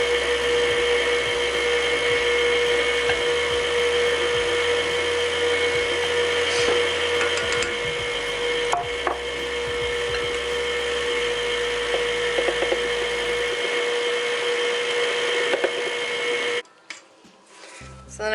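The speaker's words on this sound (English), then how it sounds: "we're going to go ahead and put the mixer on low" An electric mixer running on low through tres leches cake batter gives a steady, even whir for about seventeen seconds, with small knocks against the bowl. It cuts off abruptly near the end.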